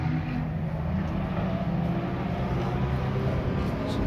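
Race cars lapping the Mallory Park circuit make a steady, distant engine drone and rumble that fills the background without a break.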